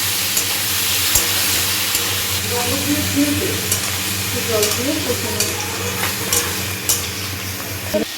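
Spinach and vegetables stir-fried with ginger paste and a splash of water sizzle steadily in a pan, with repeated scraping strokes of a spatula stirring throughout.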